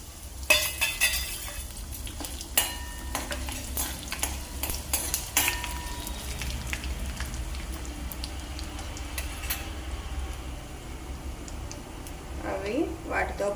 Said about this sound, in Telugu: పక్కన పెట్టేసుకొని ఆయిల్ వేడెక్కిపోయింది. సో తాలింపు దినుసులు వేసేస్తున్నా.